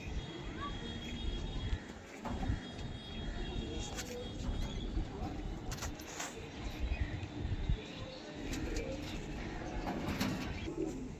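A pair of pet pigeons coo softly and repeatedly at close range under steady background noise, with people talking nearby.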